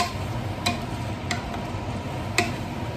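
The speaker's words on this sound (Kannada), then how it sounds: "ಈಗ ನೋಡಿ, ಚೆನ್ನಾಗಿ ಫ್ರೈ ಆಗ್ತಾ ಇದೆ." Spiced masala for pudina chicken biryani frying in a pan, a soft steady sizzle with a few light clicks from stirring, close and quiet with no talk.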